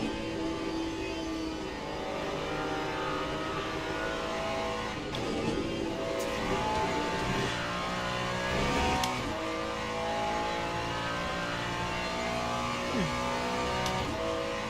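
A race car in the sim racing game Le Mans Ultimate runs through the Porsche curves at Le Mans. Its engine drones loudly and continuously, with revs rising and falling through the bends, and brief sharp shift or kerb blips.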